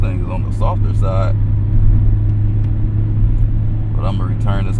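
A 2020 Mazda Miata RF MX5 cruises with a steady low engine drone and road rumble, loud and continuous, while a person talks over it at the start and end.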